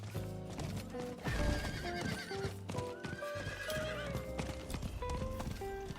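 Horse hooves clip-clop at a gallop and a horse whinnies in the Diablo IV video game, set against a steady musical score that plays throughout.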